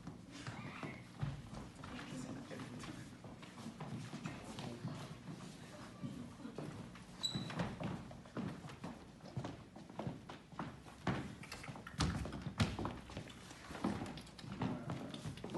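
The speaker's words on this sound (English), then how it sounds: "Horses." Horses' hooves clip-clop at a steady walking rhythm, faint and somewhat distant, under a low, murky background.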